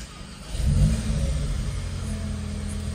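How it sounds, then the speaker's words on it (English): A 2024 Audi S3 engine fires up after a fresh tune flash, cranking into a quick rev flare before settling into a steady idle, close by with no talking. "So let's start the vehicle."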